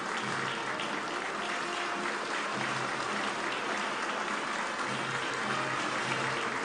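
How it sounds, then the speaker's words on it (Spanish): Sustained applause from all the benches of the Peruvian Congress at a solemn anniversary session, a dense steady clapping that fills the chamber evenly from start to finish with faint voices underneath. "El aplauso es de parte de todas las bancadas del Congreso de la República"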